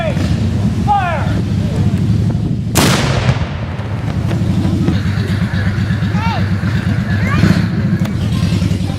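Cannon salute fired on July 4, a single loud booming blast roughly a third of the way in that echoes and decays, with a crowd murmuring and engine noise in the background.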